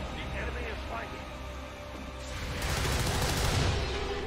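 Rapid bursts of gunfire in the video game XCOM 2: War of the Chosen (Long War 2) crackle over a busy game soundscape, growing louder and denser toward the end.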